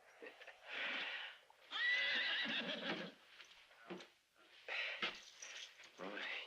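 A horse neighs and whinnies in several loud bursts with breathy snorts between them, close by, in a 1972 Western film.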